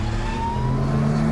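Turbocharged car engine pulling hard, a rising whine layered over a steady rumbling drone, loud and close for a brief burst with no voices.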